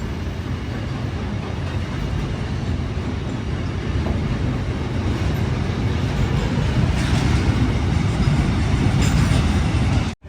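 A goods train carrying cars passes on the Ernakulam to Hazrat Nizamuddin route, a close, continuous heavy rumble of wagons rolling by with faint clatter, steady throughout until a sudden cut at the end.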